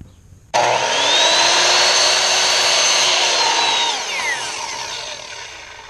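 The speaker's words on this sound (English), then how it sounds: "So we just turned the saw and did the opposite cut." A power saw cuts through quarter round wood trim in one loud, steady whine lasting about three seconds, then spins down. It starts abruptly right after a short silence.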